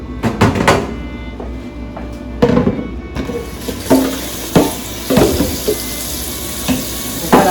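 Stockfish being washed under a running kitchen tap, steady water flow with repeated splashes and knocks as the dried fish is handled in the sink, close and fairly loud throughout.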